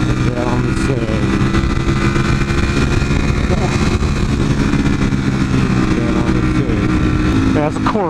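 Motorcycle engine, a chopper riding in traffic alongside a Corvette, droning loud and steady throughout with wind rush over it.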